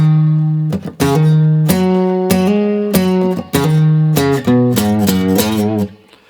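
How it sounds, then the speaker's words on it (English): A Lava Me Air carbon guitar plays a short Red Dead Redemption melodic line, with plucked notes and hammer-ons in phrased groups, close and clear with no voice over it. "the guitar I'm using today is my brand new Lava Me Air carbon guitar"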